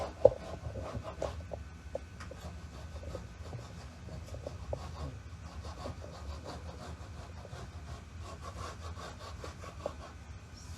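Hand paint scraper dragging in short repeated strokes across a decoupaged wooden surface, scraping paint back to reveal white underneath; steady close scratchy rasping with a few sharper catches and no talking.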